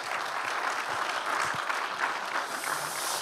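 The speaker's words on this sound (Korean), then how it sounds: "우리 총무님께도 박수 주십니다." Steady applause fills a church during a dedication and founding service, a dense continuous wash of clapping from a large congregation, loud and close with no talk over it.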